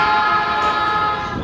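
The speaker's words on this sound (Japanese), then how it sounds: "そして列車は警笛を鳴らして入線したんですがね" A loud, sustained horn from a black Yamanote Line train entering a Tokyo station blares continuously, harsh and close, holding a steady chord-like tone.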